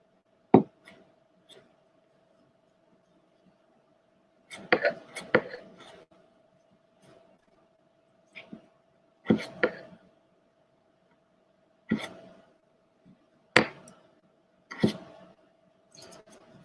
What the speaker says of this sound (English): we're just chopping up the potatoes